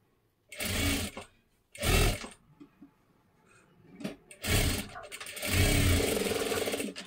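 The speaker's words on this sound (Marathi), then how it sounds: "परत एकदा आपण डबल शिलाई मारून घेतली." A sewing machine double-stitches a seam on a size 36 katori blouse, running in several loud bursts of close, steady mechanical whirring separated by short pauses.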